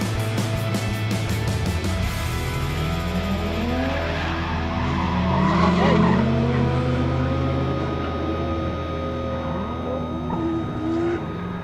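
A 1UZ turbo drift car slides around the Teesside track at a New Year's Eve drifting event, with loud sustained tire squeal and a revving engine rising and falling, and no talk.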